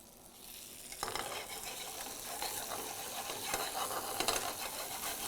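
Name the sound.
dal tadka tempering sizzling in hot oil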